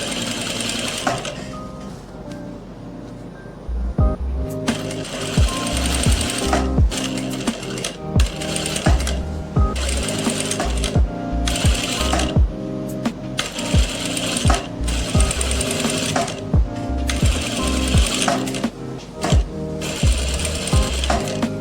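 A sewing machine runs in repeated bursts while putting double stitching into the shoulder seam of a round-flared kurti, with near, loud mechanical clatter and short pauses between the runs.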